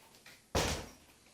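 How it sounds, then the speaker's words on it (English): A door in a house is pushed shut, giving a single sharp slam that rings out and fades quickly after a quiet moment of faint movement. "So I'm going to walk out, and I'm going to close a couple doors"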